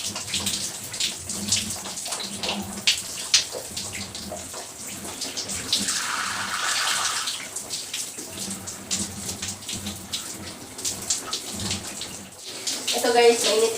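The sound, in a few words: hot water running in a steamy bathroom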